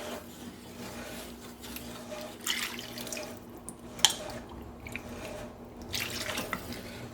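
Half a cup of water poured into a pan during gravy making, a light trickling and splashing with a few drips and small clinks, close and fairly quiet, no talk.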